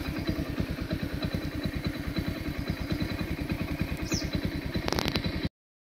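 A motorcycle engine thrums steadily at close range with a fast, even pulse while riding a potholed, waterlogged road between Shiradhon and Kolegaon, a brief clatter near the end before it cuts off abruptly.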